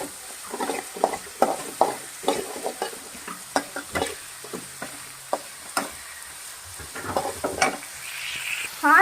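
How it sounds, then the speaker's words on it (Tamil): Tomato and turmeric fry and sizzle in a pan for a curd tadka while a spoon stirs and scrapes in irregular close taps over a low continuous sizzle. "இப்போ தக்காளி போட்டுக்கலாம், இப்போ மஞ்சத்தூள் போட்டுக்கலாம்"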